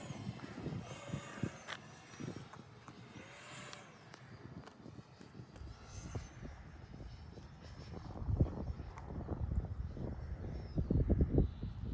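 An FMS F-16 64mm RC jet flies in to land, its ducted-fan whine rising and falling at a distance over gusty wind noise, growing louder and rougher toward the end.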